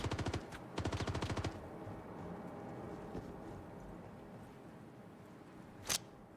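Rapid automatic gunfire bursts in the video game Star Citizen, two fast rattling volleys up front, then quieter distant shots and one sharp late report over a low background hum.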